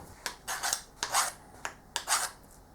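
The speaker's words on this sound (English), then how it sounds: "let's take that off and deburr it" Hand deburring a freshly machined metal part for a scotch yoke, with five short rasping scrapes in a regular rhythm, close up and fairly faint, with no talk.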